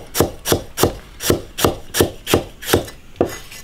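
A knife chops ginger on a wooden board in about nine steady, evenly spaced knocks, each a crisp close thud with a short scrape, with no talk.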